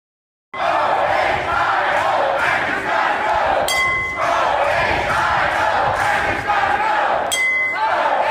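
Protest crowd outside the State House shouting loudly and continuously, a dense roar of voices with two brief bright clinking bursts partway through.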